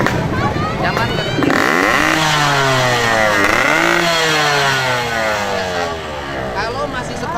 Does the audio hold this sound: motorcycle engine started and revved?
yes